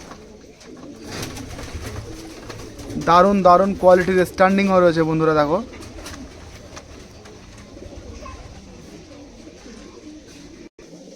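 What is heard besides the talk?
Giribaz pigeons in a loft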